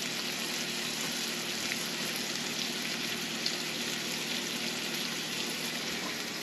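A homemade rodeo burger patty fries alone on a griddle, a soft, even sizzle with faint crackles, close-up and quiet throughout.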